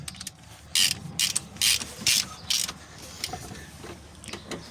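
The gear shift linkage on a Xingtai XT-454 tractor is worked by hand, giving close mechanical clicks and ratcheting clunks with a few sharp metallic bursts, in an uneven rhythm.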